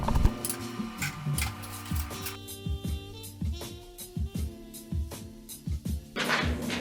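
A Harbor Freight hose reel winds its hose back in, giving a rapid train of ratcheting clicks and knocks up close, steady and mechanical, with no talk over it.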